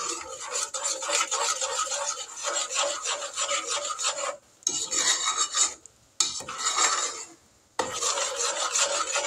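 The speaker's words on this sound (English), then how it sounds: "we're going to stir this and let it come to a boil" A utensil scrapes steadily through peanut butter fudge mixture in a pan with a thermometer clipped to its side, a close, continuous gritty rasp broken by two short pauses, with no voices.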